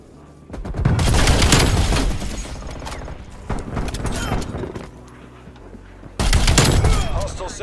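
Semi-automatic DMR assault rifle in a shooter game, fired rapidly through a rapid-fire mod chip on a PS5 DualSense controller: dense, loud bursts of gunfire in two long strings with a short gap between them, near and close.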